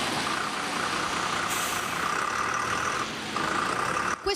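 A diesel city bus in Venice struggles through a tight curve, making several maneuvers: a steady engine rumble with a sustained mid-pitched tone and hiss, continuous and fairly loud, ending with a brief clatter.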